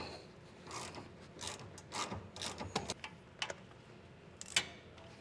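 A socket wrench with an extension works a 10 mm bolt on the rear of a 2019 GM truck, giving a string of sharp ratcheting clicks in uneven bursts, close and moderately loud, with no talking.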